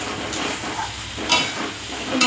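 Kashmiri chilli powder and masala being stirred in hot oil for a loitta fish curry, a steady close sizzle with a few louder scraping stirs of the spoon against the pan, no voices.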